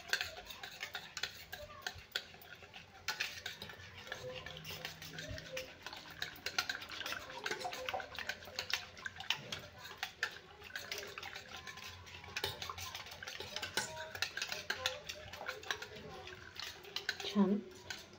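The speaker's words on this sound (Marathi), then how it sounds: "आता आपण याच्यामध्ये टाकून घेऊया रवा। यालाही मिक्स करून घेऊया।" Semolina (rava) is mixed into dhokla batter in a bowl, giving a soft, continuous scraping and sloshing of a spoon against the bowl, faint and close, with light clicks throughout.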